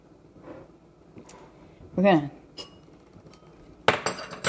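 Chicken taco soup is served into bowls: a few clinks of a ladle and utensils against dishes, close and fairly sparse, with a sharper clatter near the end and a voice talking.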